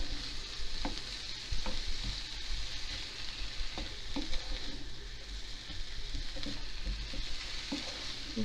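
Vegetables stir-frying in a pan with soy sauce give a steady close sizzle broken by repeated stirring scrapes and taps, moderately loud, with no voices.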